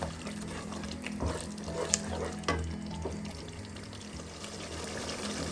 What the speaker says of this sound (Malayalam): ചൂടുവെള്ളം ഒഴിച്ചൊന്ന് ഇളക്കിയ ശേഷം ഉപ്പും കൂടെ ഒന്ന് നോക്കാം